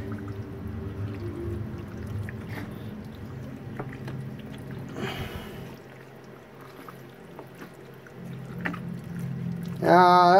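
Canned beef broth is poured into a slow cooker of Brunswick stew, a steady close liquid pour running for several seconds over faint kitchen background noise.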